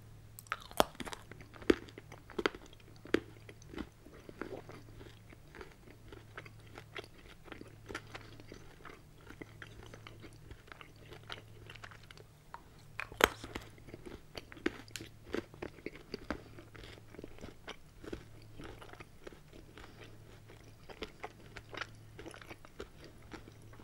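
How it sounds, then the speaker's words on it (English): Someone bites and chews a Feastables MrBeast chocolate bar, a dark-to-milk style chocolate, with quiet, close crunches and chewing spread over the whole stretch beneath a faint, steady low hum. "So here is the crunch."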